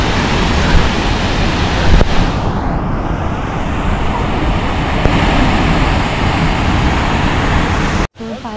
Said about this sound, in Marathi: हा धबधब्याचा व्ह्यू